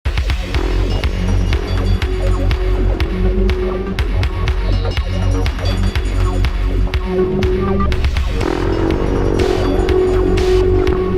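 A loud, continuous Prophet 12 synthesizer drone with a pulsing, throbbing texture and a washed-out, reverberant wash sustaining throughout.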